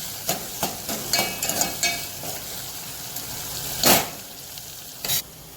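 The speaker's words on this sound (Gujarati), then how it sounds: "હવે ટામેટું એડ કરીશું। હવે આ બધું પાછું થોડું ચડવા દઈશું।" Tomato added to a hot pan for moong masala sizzles and fries steadily, with repeated sharp scraping and stirring clatters of a spoon against the pan, two louder scrapes near the end, no voices.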